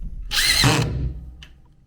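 Short, close whir of a power drill driving a screw into a wall stud while patching drywall, lasting about half a second, followed by a faint click.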